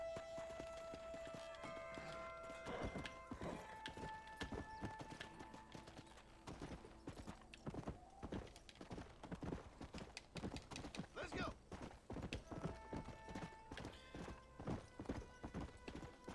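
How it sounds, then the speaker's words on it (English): Horse hooves trotting on a road in Red Dead Redemption: a steady, rhythmic clip-clop that carries on throughout at moderate volume, with occasional faint tones in the game's background. "you hug the wall and you keep the horse at a trot instead of"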